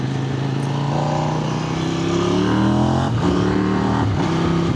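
A Kove 800X GT motorcycle accelerates hard on a test ride, the engine note climbing steadily and then dropping sharply at each quick-shifter upshift, loud and continuous with no talk.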